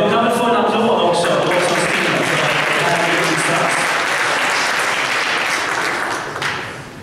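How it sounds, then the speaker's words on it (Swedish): Audience applause for a church worship team, a dense steady wash of clapping from a full room that holds throughout, with faint talk underneath, thinning near the end. "De kan väl få en applåd också."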